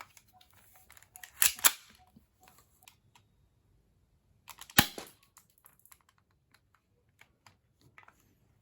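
A silver 1911 airsoft pistol fires two sharp, sudden shots a few seconds apart through a bullet chronograph, each crisp crack standing alone in a quiet room with faint clicks between.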